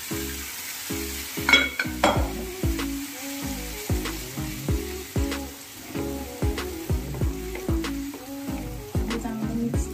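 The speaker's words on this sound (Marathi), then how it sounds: "हे चांगलं मिक्स करून घ्यायचं आहे।" Pav bhaji mixture being stirred and mixed in a hot pan, giving a sizzling fry with rhythmic scraping strokes of a spatula roughly every half second, close and clear with no talking.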